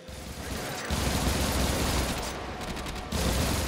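Rapid turret gunfire in the sci-fi video game Warframe, a dense, continuous roar of loud bursts that restarts after brief gaps, with no voices over it.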